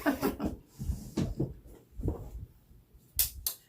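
A kitchen drawer is yanked open with several short knocks and rattles, a cluster of clattering bumps followed by a brighter scrape near the end, close by and fairly quiet, with no talking.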